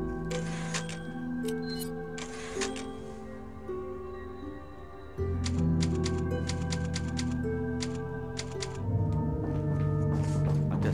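Typewriter save-point sound in the video game Resident Evil 4, a run of clacking mechanical keystrikes and ticks over sustained tonal game music that swells partway through, with no talking.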